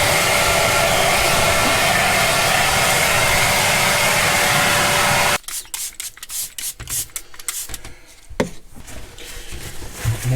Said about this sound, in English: I'll get the vacuum cleaner on it and just get rid of some of the crumbs first